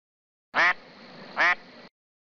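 Two loud, nasal duck quacks about a second apart, close by, with a faint hiss lingering between them.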